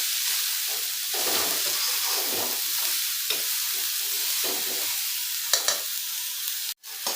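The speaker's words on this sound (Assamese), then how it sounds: "কলৰ ডিলখিনি দিলোঁ। এইখিনি লাৰি ল'ব অলপ।" Chopped banana flower fries in a pan while being stirred, giving a loud, continuous sizzle with scraping strokes throughout and a brief metallic clatter near the end.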